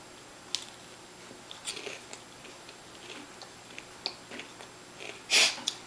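Crunchy homemade garlic pita chip topped with cheese being bitten and chewed close up, a few soft crunches building to one loud sharp bite near the end, with no talking.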